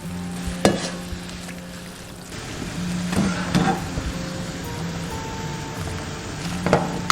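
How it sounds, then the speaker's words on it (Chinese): Abalone dropped straight into a pot of boiling water for a 20-second blanch in a home kitchen. There is a steady bubbling hiss, with a few sharp splashy clatters close by. "直接倒入鲍鱼，焯水20秒。"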